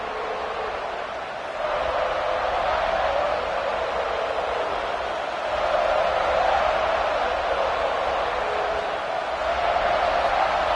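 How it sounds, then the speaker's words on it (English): A football stadium crowd at a Tennessee vs Clemson game keeps up a steady, distant roar that swells in waves, heard as a broad wash of noise without clear individual voices. "This crowd ready to make its presence known."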